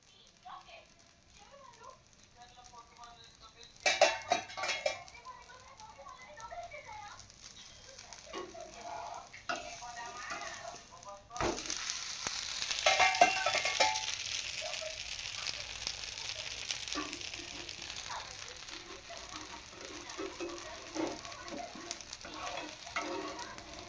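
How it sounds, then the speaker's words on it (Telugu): Dosas fry on a hot pan with steady sizzling that swells midway and holds at moderate loudness, broken by scraping and clinking from handling, while someone talks over part of it in a home kitchen. "దోశలు అయితే వేస్తున్నాను"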